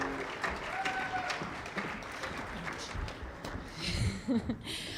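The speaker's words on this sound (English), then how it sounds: "Can we give him a round of applause?" Audience applause at a high school chorus concert, a steady wash of many hands clapping across the whole stretch with a few brief voices mixed in.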